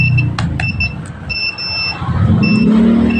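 An old multimeter's continuity tester gives several short electronic beeps, some clipped and some held, over a background engine rumble.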